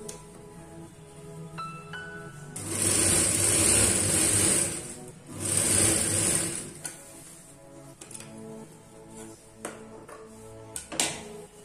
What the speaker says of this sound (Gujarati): હવે આ કપડું આવી રીતે રાખીને આની ઉપર આપણે ધાર સિલાઈ કરી લેશું